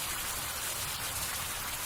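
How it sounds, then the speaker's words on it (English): Steady rain in the survival game Survival: Fountain of Youth, a dense even hiss of falling drops close around and alone, with no voices, holding constant throughout. "It's raining and terrible,"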